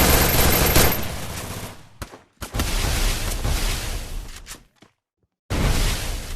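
Guns fire in a Free Fire 2v2 custom match: loud, rapid automatic bursts that run for long stretches, broken by brief pauses and a short silent gap before another burst resumes.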